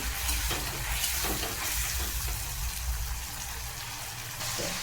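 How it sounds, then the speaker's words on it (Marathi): Chopped tomatoes sautéing in hot oil for Kolhapuri misal, a dense continuous sizzle and crackle close up, with occasional stirring scrapes and no talk. "बारीक केलेलं टोमॅटो टाकून घ्यायचं आहे त्याला पण मिनिट दोन तीन मिनिट परतून घ्यायचं आहे"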